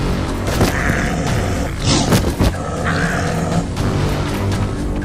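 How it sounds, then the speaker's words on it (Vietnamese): A leopard in an animated 3D folk-tale film roars in loud, rumbling bursts over a dense, booming dramatic soundtrack, the growls swelling and repeating across several seconds with no speech. "Đây là tiếng gầm của con báo."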